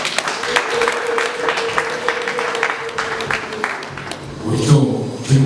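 A reception crowd claps for children in a warm burst of applause, with sharp hand claps and talk over it, and voices growing louder toward the end.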